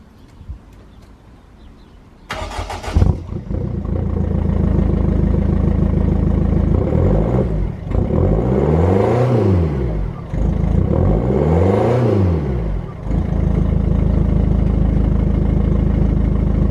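A Ford Fiesta Mk6 TDCi Zetec S diesel with a new exhaust cranks and starts, settles into a loud close idle, then is revved twice in rising and falling sweeps, with no one talking.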